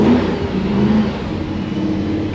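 A muscle car engine at a muscle car show runs with a continuous, loud mid-range roar and a steady revving drone, close by.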